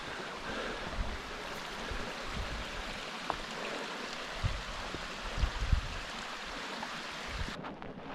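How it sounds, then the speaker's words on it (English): Stream water rushes steadily through a river gorge in Slovensky Raj, Slovakia, heard up close as a hiker wades through it, with wind buffeting the microphone and a few splashy thumps from footsteps in the water. "And now I'm really hiking through the river."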